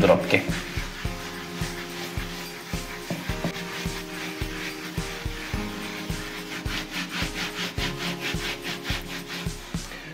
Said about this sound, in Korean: 그냥 바로 이렇게 구연산을 뿌려가지고 문질러줘도 충분히 청소가 가능합니다